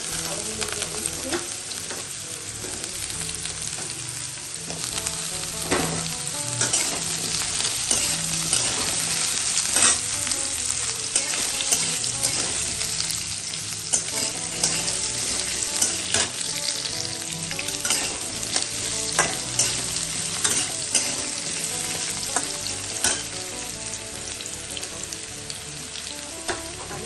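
Potatoes sizzling in a pan of hot oil while being stirred, a Bengali dish of paneer with jackfruit seeds and pumpkin being prepared, with a constant close hiss broken by scraping stir strokes.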